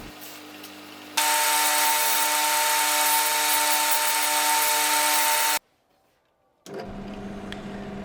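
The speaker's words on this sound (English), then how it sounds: "After cutting the screw, I used my sanding disc to sand the end." A steady, loud high-pitched whine of a sanding disc grinding the cut end of a screw for about four seconds, then a short silence before a rougher grinding resumes.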